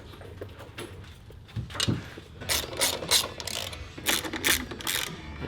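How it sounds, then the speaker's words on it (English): A ratchet clicks rapidly while tightening a clamp on the subframe of a 1994 Kawasaki KX250 dirt bike, with short bursts of metallic pawl clicking that grow louder and more frequent, heard up close in a workshop. "I'm gonna go ahead and get this clamp tight."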